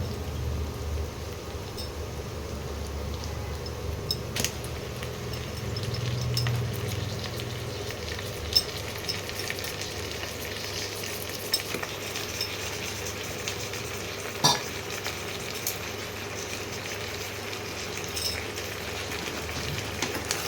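Chicken pieces frying with browned onions in a pan for dum chicken make a long, even hiss with occasional light clicks of a stirring spoon, heard alone without speech.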